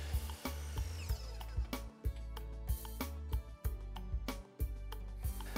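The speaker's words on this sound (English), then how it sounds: "Drill pilot holes and install screws to hold them in place." A power drill bores pilot holes into a pine deck board for a plant stand, with repeated loud bursts of whirring cut by brief pauses, close up and with no talking.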